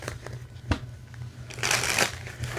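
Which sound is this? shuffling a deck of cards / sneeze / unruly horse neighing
shuffling a deck of cards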